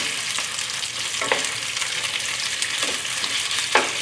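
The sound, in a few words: chicken frying in a hot pan for chop suey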